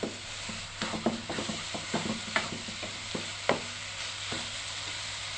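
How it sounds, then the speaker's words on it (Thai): Thai jeeb nok dumpling filling stir-fried over low heat in a pan, with a steady soft sizzle under repeated scraping and tapping of the spatula, close and alone. "ผัดด้วยไฟอ่อนไปเรื่อยๆ ค่ะ จนแห้งดีค่ะ"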